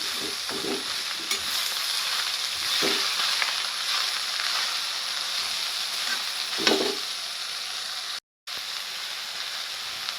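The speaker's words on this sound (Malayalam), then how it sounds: "ഒരു അര ടീസ്പൂൺ ഉപ്പിട്ട് കൊടുക്കാം ഇനി നന്നായിട്ടൊന്ന് ഇളക്കി ഒതുക്കിയൊക്കെ" Food sizzles steadily in a hot pan after salt is added, with a few scraping stirs of the spoon now and then and a brief dropout near the end; no one speaks.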